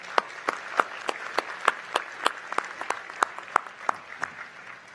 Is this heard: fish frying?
no